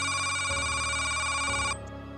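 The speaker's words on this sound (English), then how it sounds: "your phone rings." A telephone ringtone sounds loud and steady, a continuous electronic ringing with a bright tonal pattern that cuts off abruptly near the end, leaving a quieter background.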